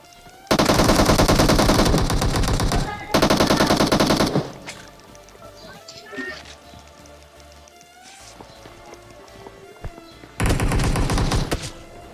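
Automatic gunfire in the mobile battle-royale game PUBG Mobile on the Godzilla map, two long loud bursts of rapid fire, a quieter stretch of game sounds, then another loud burst.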